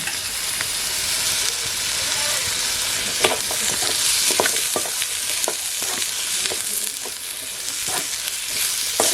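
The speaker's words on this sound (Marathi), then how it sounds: "भाजी परतून झाली आहे" Wild gometi jungle vegetables with potato being stir-fried in a pan, a steady close sizzle with scattered crackles and the scrape of stirring throughout.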